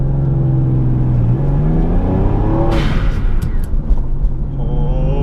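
A 1991 Mitsubishi 3000GT VR-4 with an all-wheel-drive manual gearbox, engine droning loudly from inside the cabin as it accelerates in sport mode, pitch climbing and shifting through gears with a brief whooshing burst midway.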